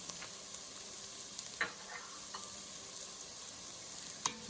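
Minced garlic frying in a pot with softened vegetables for a beef stew, a steady close sizzle with occasional light scrapes and taps of stirring.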